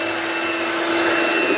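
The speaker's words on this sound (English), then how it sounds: "we're going to whisk these off until we start to form soft peaks on the meringue" Electric whisk whipping egg whites toward soft-peak meringue for a lemon meringue pie, a steady loud continuous motor whir with no breaks, close up and alone.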